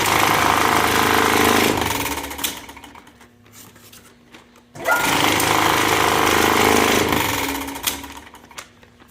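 Express Scale Parts 996 industrial bag closer on a sewing pedestal, running in two loud sustained bursts of rapid mechanical chatter and motor whine, with a quieter pause between them, close up and without talk.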